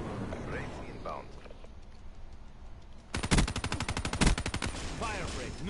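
A Gorgon gun in a first-person shooter rips out a loud, rapid burst of automatic fire lasting about a second and a half. Quieter game voices and talk come before and after it.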